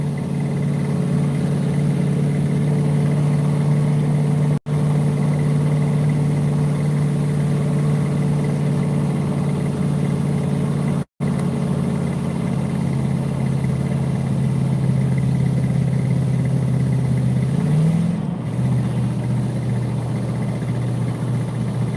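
A failing vehicle engine runs with a loud, continuous droning hum, close and steady for about twenty seconds, broken by two abrupt dropouts and a slight shift in pitch near the end, with no talking.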